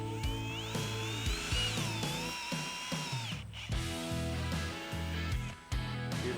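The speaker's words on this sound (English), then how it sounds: "We'll also be drilling into the larger end of our horizontal post" A power drill bores into the larger end of a wooden horizontal brace post for a high-tensile fence H brace, whining in short bursts that rise and fall in pitch as the bit cuts.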